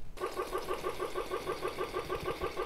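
A Worx 18-volt single-cylinder piston air pump motor, opened up and fed low voltage, runs at low speed with a steady, quick rhythmic chugging hum after a sudden start.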